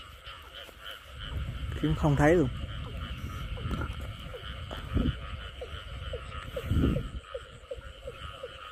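Frogs croak in a rice field at night, repeated short croaks near and far scattered through the clip, with someone speaking over them and some rustling in the background.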